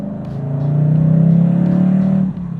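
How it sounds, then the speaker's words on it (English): A 2024 Ford Mustang GT Convertible's Coyote V8 revs up, a deep, loud engine note climbing and holding steady before easing off abruptly, heard close with no talk. "It's more of a rev-happy engine."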